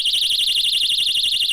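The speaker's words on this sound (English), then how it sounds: "Number 8, Personal Alarm." A handheld personal safety alarm, triggered by pulling its pin, shrieks with a loud, piercing, warbling electronic tone that pulses steadily without pause.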